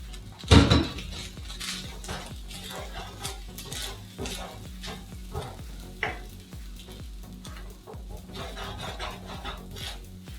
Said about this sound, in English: I can add all the other stuff that I fried before, which is mushrooms, onion, and all the veggies